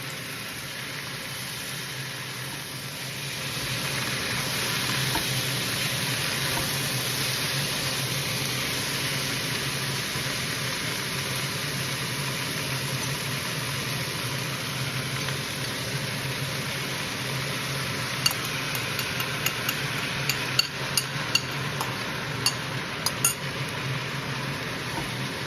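Chicken noodles stir-frying with chopsticks in soy sauce, a continuous loud sizzle and hiss with a few light clicks of chopsticks against the pan later on.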